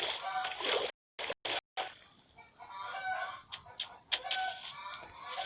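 Chickens cluck and squawk in bursts, close by and fairly loud, with brief silent gaps and some rustling between calls.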